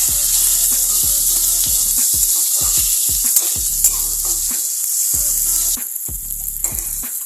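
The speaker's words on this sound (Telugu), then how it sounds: "జింజర్ గార్లిక్ పేస్ట్ వేసుకోవాలి. పచ్చివాసన పోయేంత వరకు ఫ్రై చేసుకుందాం." Ginger garlic paste sizzles and fries in a hot pan, a loud, bright hiss broken by rhythmic scraping and stirring strokes, with a brief drop in intensity near the end.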